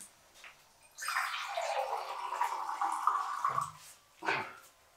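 Water is poured in a quiet room: a soft splashing stream that runs for about two and a half seconds, then a brief trickle and a short second splash.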